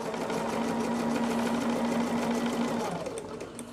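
Sewing machine stitching quilt pieces, a close, continuous fast mechanical whir with a steady hum and rhythmic needle chatter, running for about three seconds before easing off, no talking over it.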